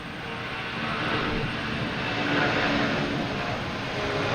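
Near and fairly loud, a Cape Air airplane passes at Boston Logan Airport, its engine roar swelling to a peak midway and then easing slightly, with no voices.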